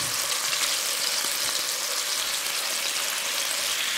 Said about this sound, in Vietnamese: Tiếp theo thì mình cho cá vào chiên áp chảo cho săn mặt.